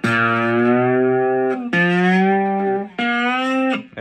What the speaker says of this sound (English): That's the amplifier distortion.